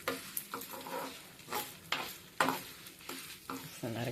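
Tamarind frying in a pan as it is stirred, giving a steady sizzle broken by repeated scraping stir strokes, close and fairly loud.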